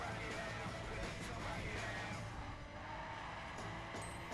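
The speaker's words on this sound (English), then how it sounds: "I've got absolutely no idea what engine's in the 370Z. I do like the sound of it straight away though." A Nissan 370Z in the racing game The Crew 2 drones with a steady engine note and tire squeal from skidding, continuous and fairly faint, with brief voices.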